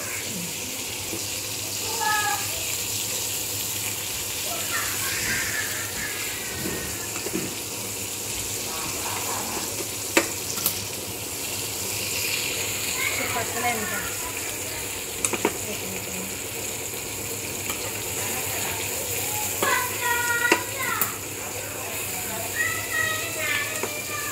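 Vada fish frying in a pan gives a steady hiss and crackle, with faint clinks and speech in the background throughout.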